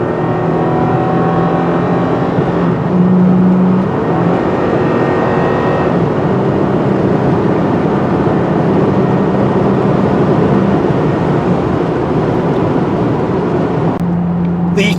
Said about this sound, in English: the droning of that TRD exhaust is very annoying to me